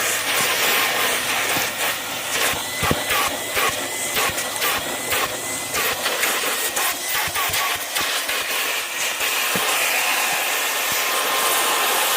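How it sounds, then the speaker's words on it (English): A vacuum cleaner works over the seats of a third-generation Camaro, giving a steady, close whine with repeated scraping and knocking as the nozzle moves across the upholstery. "so the seats have been vacuumed"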